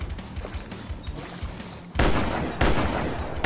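Rapid gunfire rattles while shooting dinosaurs in the video game Dinosaur Hunt: Africa Contract, first as lighter repeated shots, then as heavy, loud sustained bursts of automatic fire that dominate the second half.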